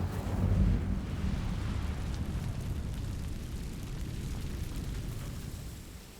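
A low, rumbling fire-spell blast from the video game Hogwarts Legacy, a heavy boom that swells in the first second and then rolls on as a steady roaring burn that fades slowly toward the end, with no talk.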